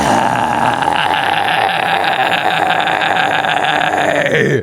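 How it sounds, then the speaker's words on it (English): A harsh, sustained vocal scream combining fry and false chord distortion, raspy and gravelly, held steadily for several seconds before cutting off. "what many people don't know is that you can actually combine this false chord distortion"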